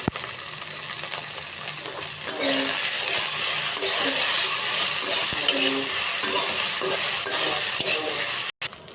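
Pasta frying in a pan, a quiet bed of sizzle that jumps louder and denser as stirring begins, with soft scraping strokes of a spoon repeating through the hiss until a brief cut near the end.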